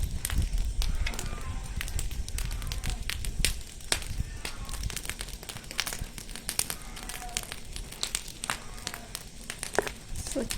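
Dry grass and a babul tree burning outdoors, sharp irregular crackles and pops scattered over a low rushing background, fairly quiet.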